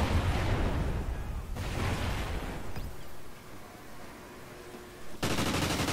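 Heavy automatic gunfire in the shooter game Call of Duty Ghosts, loud dense bursts that pause briefly and resume, with a fresh volley at the end.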